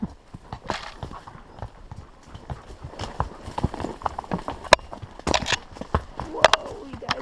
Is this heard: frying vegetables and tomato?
no